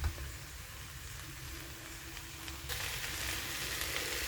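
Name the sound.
fried coconut being stirred into banana flower curry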